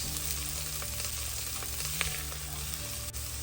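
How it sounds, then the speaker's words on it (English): Carrots fry in a pan with a dense, constant sizzling hiss, a few faint stirring clicks, and no one talking. "Then you add your carrots. I use 3/4 a small bowl and fry this for about a minute."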